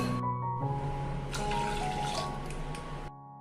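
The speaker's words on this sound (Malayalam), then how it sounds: "അതേ കപ്പിന്റെ അളവിന് 2 കപ്പ് വെള്ളം കൂടി ഒഴിച്ച് ഇതൊന്ന് വേവിച്ചെടുക്കാം." Water poured from a cup into a pot of washed lentils (parippu) for cooking, a steady close splashing stream that runs for about three seconds, then stops, against a faint tonal background hum.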